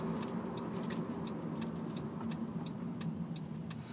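Manual-transmission car idling at a traffic light after being shifted out of fourth gear into neutral, a steady low engine hum and cabin drone holding even throughout with faint ticking above it.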